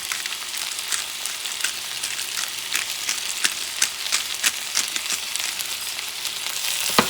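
Pepper steak with peppers sizzling in a hot pan, a dense continuous frying hiss dotted with small pops and occasional stirring clicks, close and steady, no voices.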